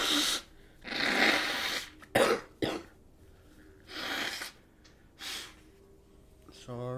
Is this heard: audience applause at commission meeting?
no